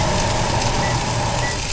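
T-bone steaks sizzle in a ridged grill pan on an indoor stove, a steady, dense crackle and hiss with faint kitchen exhaust hum underneath, continuous and close.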